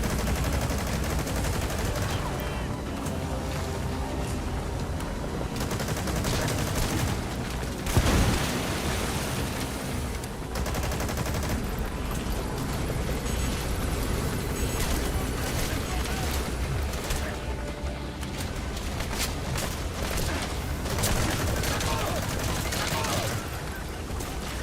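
Dense, sustained gunfire from Metal Gear Solid V: The Phantom Pain rattles continuously in the game's battle, bursts layered over a constant roar of noise and explosions with no pause.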